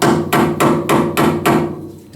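A hammer striking a nail to make a small pilot indentation before drilling while installing a fuel pump controller in a 1965 Corvair, six sharp metallic taps in an even rhythm, loud and close.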